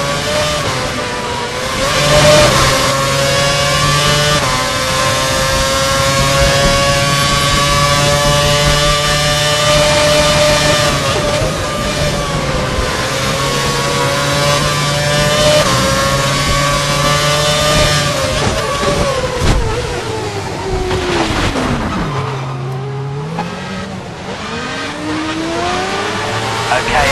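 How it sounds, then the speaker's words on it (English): A race car engine screams at full revs, sustained and loud, with brief gear-change dips and a sharp drop near the end before climbing again. "He's running full revs. Maximum power."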